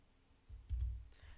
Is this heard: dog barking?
no